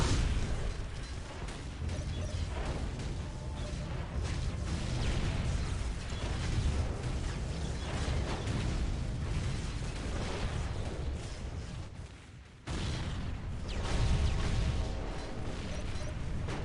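Explosions and crashing destruction as Imperial Guard forces, including Baneblade tanks, destroy Necron pylons in the Dawn of War: Ultimate Apocalypse strategy game; dense, continuous battle din with repeated bursts, a brief drop near the end, then resuming loudly.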